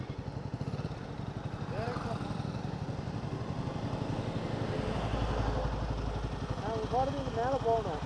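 KTM RC 200 BS6 motorcycle engine idling at a stop on a trip around Kodaikanal, a steady low throb throughout with a brief swell near the end, close to the microphone and alone without talk.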